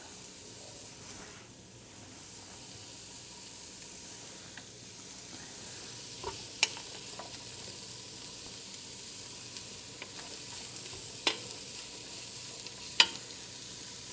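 Onions sauté in a pan for chili, giving a steady, moderate sizzle and hiss with a few sharp clinks of a utensil stirring against the pan.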